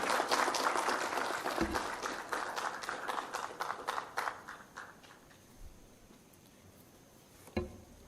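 Audience applause welcomes the Home Minister at an all-India tree-planting campaign event, a broad burst of clapping that thins out and fades over several seconds, with a few scattered claps near the end.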